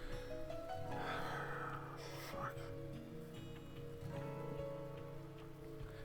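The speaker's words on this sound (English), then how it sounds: "The rain started falling a little before dawn and hasn't let up since. If anything, the sound of water drumming against the building seems to grow louder" Steady rain drums against a building in the ambience of the visual novel The Fruit of Grisaia, a soft continuous patter with faint tonal sounds underneath.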